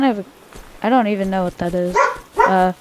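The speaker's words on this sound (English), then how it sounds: "Sorry about my dog. He's a freaking goober, barking all the time." A pet dog barks and yips at home in a quick string of loud, close calls with strong harmonics, while someone speaks over and between the barks.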